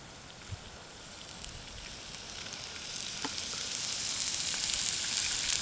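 Onions and burgers fry on a camping stove outdoors, a continuous close sizzle that grows steadily louder and brighter, with occasional small pops and crackles.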